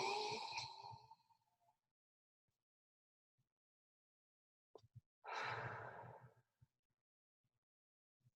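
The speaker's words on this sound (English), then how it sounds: "we're going to ask that you take a few deep breaths" Deep breaths during a guided breathing exercise on a team call: a long audible exhale, a pause of near silence, then a sharp inhale followed by another long sighing exhale, close and clear.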